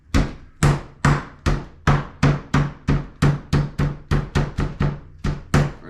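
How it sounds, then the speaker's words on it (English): A meat mallet pounds a piece of chicken flat inside a bag while camping, about fifteen loud, evenly spaced thuds in a steady rhythm, close and alone. "if you need to flatten out your chicken, we'll take a piece and we'll just lay it right inside the bag"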